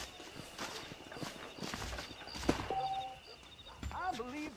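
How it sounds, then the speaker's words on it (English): Hooves of a horse clip-clop at a walk in the Red Dead Redemption video game, a steady rhythm of close, moderately loud steps mixed with game sounds and a brief tonal effect, with people talking over it. "Vamos selar o cavalo aqui"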